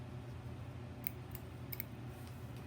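Scissors snip through a crochet yarn tail, cutting close: three or four quick, faint clicks in the second half, over a steady low room hum with no talking.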